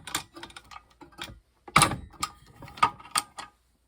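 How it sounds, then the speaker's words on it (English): Metal frame of a vacuum forming machine for clear plastic retainers is lifted, giving a series of close, sharp metallic clicks and clunks, with two louder knocks midway and a quiet pause between groups. "you move the heat element out of the way first of all, swing all the way to the back, and you lift up the metal frame"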